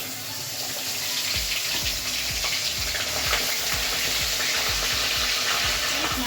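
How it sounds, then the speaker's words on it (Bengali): Fish heads frying in hot oil in a pan, a steady loud sizzle with crackling bursts throughout, no voices. "তো এই তেলটার মধ্যেই এখন মাছের মাথাগুলো ফ্রাই করে নেওয়া হবে।"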